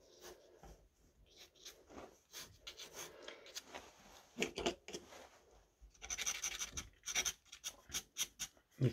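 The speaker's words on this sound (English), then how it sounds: "pick up a stick that's lying beside us, dip that into the ink and draw with that" A stick dipped in ink scratching across paper, giving irregular dry scrapes and short strokes, quiet and close, with busier rapid hatching toward the end.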